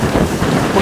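Wind gusting across a 35-foot Wharram sailing catamaran with centerboard, a steady broadband roar of rushing air buffeting the microphone close up, with no talk.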